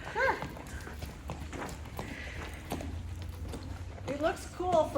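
A horse working under saddle in a dressage training session, hooves clip-clopping steadily at a walk under ongoing talk from a rider and trainer, with a nearby voice louder at the start and end.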